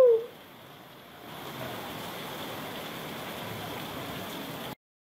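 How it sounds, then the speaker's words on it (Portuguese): Heavy rain pours steadily in the Rio Grande do Norte region of Brazil, a dense, even hiss of falling water that swells slightly after the first second and holds at a constant level until it cuts off. "muita chuva, começou agora o inverno"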